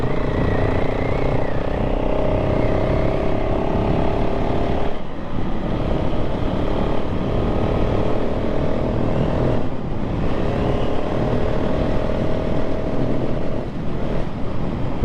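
A 2024 KTM 690 SMC R motorcycle rides down a road with a loud, close engine drone whose pitch climbs steadily and then drops twice, as if shifting gears under acceleration, over steady wind rush.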